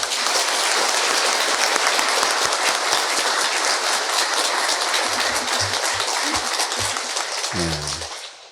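Warm, sustained applause from a Catholic congregation at a Christmas Eve midnight Mass thanks the choir, loud and continuous with a few low thumps and a brief murmur near the end as it tapers off.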